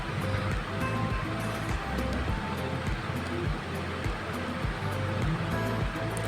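Potato pieces dipped in gram flour batter frying in hot oil on a gas stove, a steady dense sizzle and crackle with soft bubbling pops throughout.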